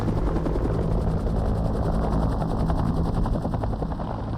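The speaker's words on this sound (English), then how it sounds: "Bell Helicopter's Huey." A Bell Huey helicopter flies close and loud, its rotor blades thumping in a fast steady rhythm over a continuous engine roar, with no voices.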